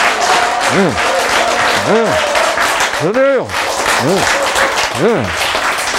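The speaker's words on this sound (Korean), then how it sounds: "박수 그렇게 열심히 치세요." Steady audience applause fills a Korean lecture hall on overcoming cancer, continuous and fairly loud, while someone speaks over it in sing-song phrases.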